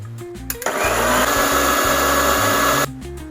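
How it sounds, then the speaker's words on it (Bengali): Mixer grinder whirring loudly as it grinds mint and coriander leaves into a paste, starting abruptly after a few clicks, running steadily for about two seconds, then switching off, with no talking. "এবার এই মিক্সিতে পুদিনা পাতা আর ধনে পাতাগুলো পেস্ট করে নেব"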